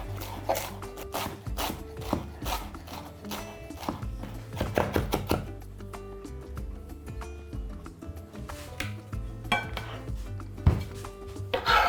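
A large bunch of mixed fresh herbs (basil, mint, dill, parsley and coriander) is finely chopped with a knife on a board, giving close, quick, uneven tapping knocks that run throughout with a few brief pauses.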